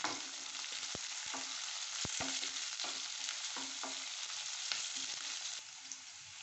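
Sliced shallots and curry leaves sauté in hot oil, giving a continuous bright sizzle broken by repeated spatula scrapes and taps against the pan, close and steady, quieting slightly near the end.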